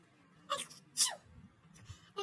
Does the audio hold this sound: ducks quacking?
no